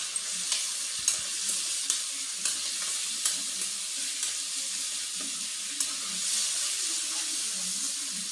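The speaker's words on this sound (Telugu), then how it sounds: "ఆలుగడ్డలు వేసిన తర్వాత కొంచెం ఉప్పు, తగినంత పసుపు వేసి కలుపుకోవాలి." Cut potatoes fry in a pan with salt and turmeric, giving a steady sizzle up close, while a spoon stirs and scrapes them in regular, repeated clicks about every half second. Nobody speaks.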